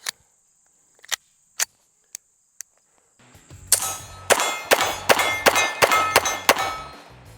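An empty Savage 8-round 1911 magazine with a bump pad drops free from the pistol. Several sharp, isolated metallic clicks ring out first, followed by a denser run of loud clanging impacts and rattles close by.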